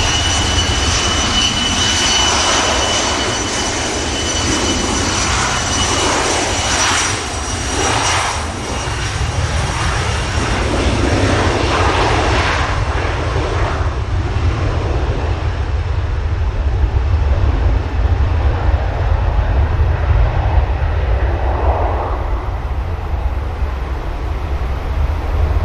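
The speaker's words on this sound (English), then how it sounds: "Logan Embraer takes to the skies" A Loganair Embraer jet takes off at Manchester Airport with a loud, sustained engine roar that holds strong throughout and slowly shifts in tone as the aircraft climbs away.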